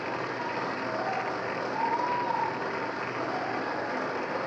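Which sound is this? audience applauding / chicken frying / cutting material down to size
audience applauding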